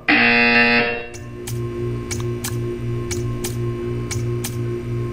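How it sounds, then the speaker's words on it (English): Repeated electronic buzzer in the Portal 2 video game test chamber, a loud sustained tone followed by about nine short evenly spaced buzzes over a steady low background hum. "You will hear a buzzer. When you hear the buzzer, stare at the art."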